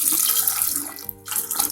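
Water poured into a pressure cooker over chickpeas, a close splashing stream with a short break midway, then pouring resumes, no voices.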